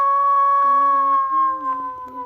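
A wolf howls in a video game, a long sustained tonal howl that wavers and dips in pitch, loud and close, with no talk over it.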